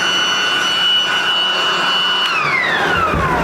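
A battery-powered Ryobi fan or blower runs with a loud, steady whooshing hum and a high whine. Near the end the pitch slides downward as the motor changes speed.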